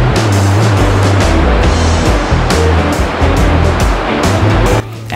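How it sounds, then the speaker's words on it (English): A loud, steady roar of rushing river water on the trek to Phoksundo Lake in Dolpa, Nepal, a buzzing, jet-engine-like hum filling the scene continuously, broad and close, with no voices. "The buzzing jet engine-like sound that you continuously hear humming in the background throughout the trek is the river roaring nearby"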